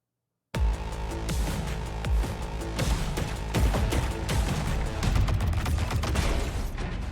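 A Destiny 2 Lightfall game trailer opens on a sudden loud, dense mix in which repeated sharp gunshot hits land in rhythm with pounding music and keep going at full strength to the end.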